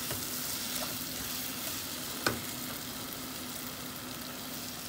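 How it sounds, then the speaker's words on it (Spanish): Tomato sauce frying in a pan, a steady faint sizzle that holds evenly throughout, broken by a single brief clink partway through. "Que se guise la salsa de tomate"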